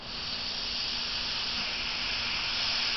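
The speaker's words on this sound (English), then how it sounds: "The steam you see is me hitting this wet piece of paper here that I'm using to try to get a little moisture into that bridge." Steady broadband hiss of steam as a hot tool meets a wet piece of paper laid over a guitar bridge, continuous and close with no breaks.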